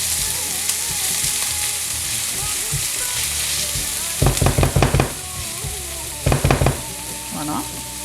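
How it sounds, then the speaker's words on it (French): Onions fry in a pan with a steady, close sizzle, broken by two short bursts of stirring clatter. "j'ai laissé mes oignons revenir environ 5 minutes"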